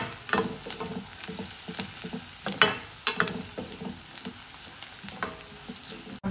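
Onions soften as they fry with a pinch of turmeric in a pan, a continuous close sizzle broken by repeated scrapes and clatters of stirring, with no voices.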